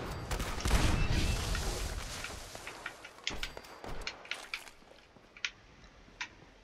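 Shots from a launcher in the video game Fallout 76 boom loudly, followed by a few scattered sharp cracks and clicks fading out.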